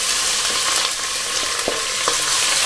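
Mutton pieces frying with golden brown onions for a Karnataka-style donne biryani, a steady close sizzle with occasional soft stirring clicks, no voices.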